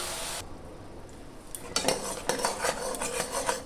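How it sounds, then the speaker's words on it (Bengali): Jaggery is stirred in a pan for sesame sweets. A quiet start gives way to repeated close metal scraping and clinking of a utensil against the pan in an uneven rhythm, with no talking. "গুড়টাকে আমি ভালো করে পাক দিয়ে নেব।"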